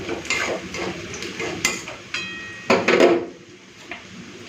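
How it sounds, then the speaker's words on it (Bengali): Onions fried until reddish sizzle in a pan as a ground paste of ginger, garlic and dried red chilli is tipped in, with clattering stirs and scrapes of a spoon against the pot, close and fairly loud. "পেঁয়াজটা লাল করে ভেজে নিয়েছি এরপরে বাটা মশলাগুলো দিয়ে দিই"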